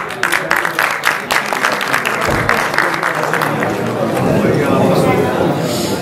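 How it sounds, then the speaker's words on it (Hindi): A large audience claps steadily through a lifetime achievement award ceremony for director Agha Hassan Askari, with dense, sustained applause and a few louder individual claps near the front. "प्लीज तालियां बजाना आते हैं साहब के लिए"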